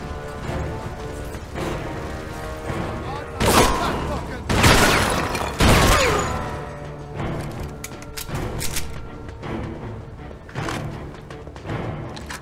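Gunfire from the Mafia 2 video game shootout, with several loud bursts and crashing impacts clustered around the middle. Shouting voices and ongoing game noise run beneath the shots.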